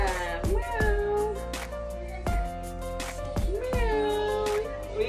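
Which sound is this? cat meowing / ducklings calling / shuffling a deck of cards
cat meowing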